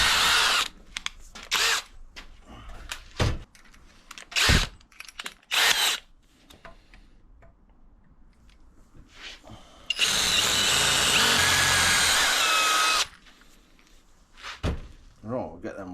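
A power drill bores holes in steel bracket side pieces for a BMW adventure motorbike headlight, with one long loud steady whine lasting a few seconds, set among scattered clunks and knocks of workshop handling.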